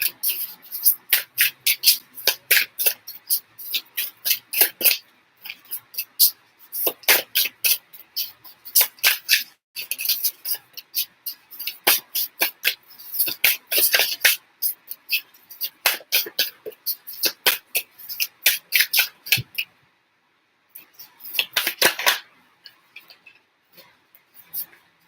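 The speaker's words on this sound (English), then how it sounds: "I'm just shuffling now for the second one." Tarot cards are shuffled by hand in rapid, crisp riffling bursts with short pauses between, close and fairly loud, with a brief silence near the end before another quick flurry.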